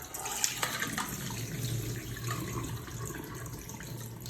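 Tap water runs into a sieve while straining cucumber, a soft, steady splashing stream at low level, close by, with faint clatter near the start.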